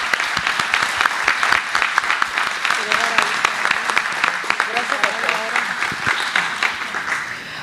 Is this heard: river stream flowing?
no